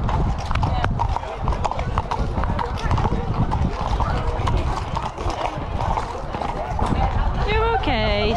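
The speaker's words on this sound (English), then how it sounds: "there's so many horses." Several horses out hunting, one a wild pony, clip-clop steadily along, a busy tangle of hoof beats with an occasional whinny, while people talk over them nearby.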